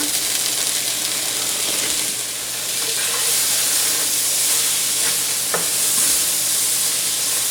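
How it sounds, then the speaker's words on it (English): Loud, constant sizzle and hiss of frozen corn sautéing in a hot pan, with faint stirring clicks now and then, close up and without pause. "We just kind of want to give these a light saute."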